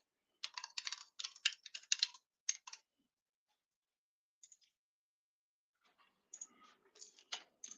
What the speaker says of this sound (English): How do I type this on my computer?